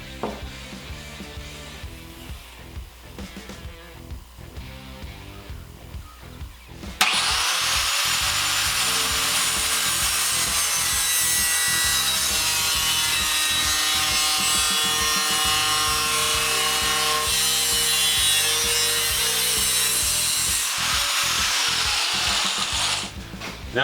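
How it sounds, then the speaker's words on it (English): A stainless steel bracket for a Maxim XJ650 cafe racer's shorty muffler is cut and drilled, starting with irregular mechanical clatter and then a loud, steady, high-pitched power-tool whine that runs continuously for most of the clip. "Now we've got my little bracket cut out and drilled."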